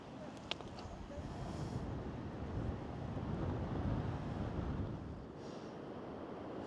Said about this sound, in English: Just listen to the roar of that sea.